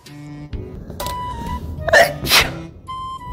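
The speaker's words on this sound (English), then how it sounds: "by an explosive sneeze." An explosive human sneeze indoors builds through a couple of sharp gasping inhales and bursts out in two loud, close, forceful blasts.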